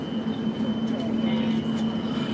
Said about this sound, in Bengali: আমি আমি ট্রেনে মেট্রোর ভিতরে